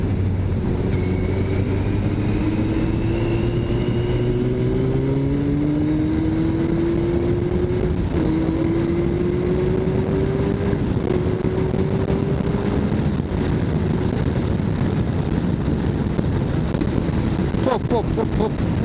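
A Yamaha Fazer motorcycle engine revs and pulls hard while riding, its rising pitch sweeping up through the gears as wind buffets the microphone, loud and close throughout.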